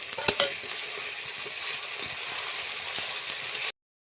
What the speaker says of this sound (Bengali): এখন আদা রসুনের বাটাটা দিয়ে দিলাম